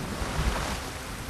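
A waterfall in the video game Ghost of Tsushima gives off a steady, broad rushing roar of falling water, continuous and fairly close, with no voices over it.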